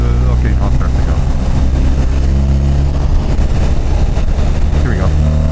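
A 2026 BMW R1300RT sport touring motorcycle engine pulls away in sixth gear without a downshift. A loud, close engine drone rises steadily in pitch under heavy wind rush.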